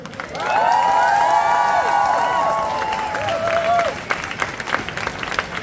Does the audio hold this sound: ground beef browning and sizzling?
no